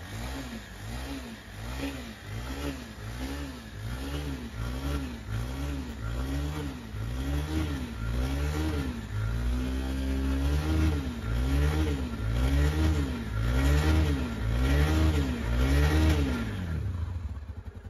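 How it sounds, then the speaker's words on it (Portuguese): A Honda Tornado 250 motorcycle engine revs in steady repeated pulses at medium revs while warming up, rising and falling in a regular rhythm, loud and close throughout with no talking. "Espera a moto esquentar um pouco, vou segurar ela debaixo com a média rotação."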